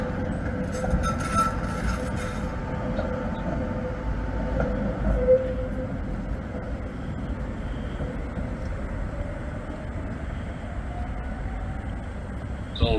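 Prague trams running through the city during the morning peak make a continuous loud rumble of wheels and motors, with a faint brief squeal, and no talk over it.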